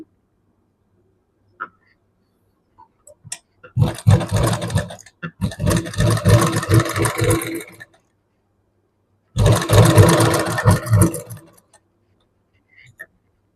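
A sewing machine stitching the neckline of a Punjabi dress, running in two loud close bursts of rapid buzzing with a pause between them, and quiet clicks before and after.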